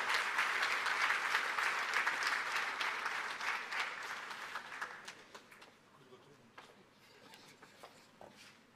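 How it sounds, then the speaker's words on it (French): Audience applause at the opening of an event in Lomé, loud and dense at first, then thinning into scattered claps as it fades. "Sous vos applaudissements, s'il vous plaît."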